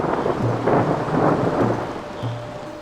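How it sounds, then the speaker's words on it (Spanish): Thunder rumbles low and continuous through a storm at sea, blended with steady heavy rain and wind noise, loud and close with no voices. "El fragor del trueno estremece hasta el marinero más experimentado"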